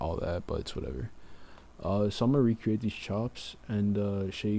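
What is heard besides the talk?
None of the usual background noises is heard.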